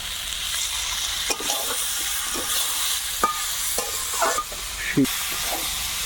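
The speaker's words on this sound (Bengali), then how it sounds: "ভালো করে ওলকপি আর আলুটা কষিয়ে নিয়েছি একদম লাল লাল হয়ে গেছে এইবারে কাঁচা লঙ্কা আর টমেটো" Kohlrabi, potato, green chili and tomato frying in a pan, with steady sizzle broken by repeated scraping strokes of a spatula stirring the vegetables.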